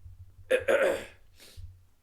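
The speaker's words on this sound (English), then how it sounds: "I'm clearing my throat" A person clears their throat with a couple of short, rough bursts, close and fairly quiet, against a low background hum.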